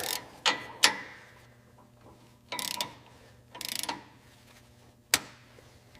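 A wrench working a rounded bolt on a 1969 Chevrolet Camaro brake caliper gives scattered sharp metallic clicks and short ratcheting bursts, close and separated by quiet gaps.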